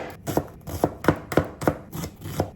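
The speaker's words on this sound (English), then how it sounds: "So for the beans, we just remove the ends." A kitchen knife trimming the ends off green beans on a cutting board gives about eight crisp, evenly spaced chops at close range, with no talking.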